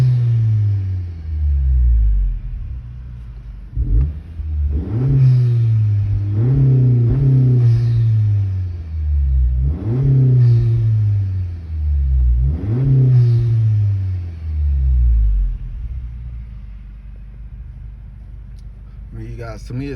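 A 2020 Honda Accord Sport fitted with an Injen cold air intake is revved repeatedly from inside the car. Loud rising engine surges come one after another over a steady idle, about six in a row.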